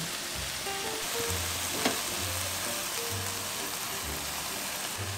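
Meat sizzles and fries in a pan for kimchi stew with bacon, a dense, steady crackle close by with a faint scrape of stirring partway through.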